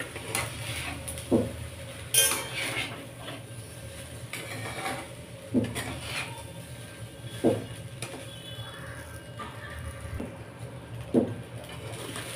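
Schezwan fried rice stirred in a pan, with soft scraping and sizzling under a steady low hum and sharper spoon knocks every few seconds.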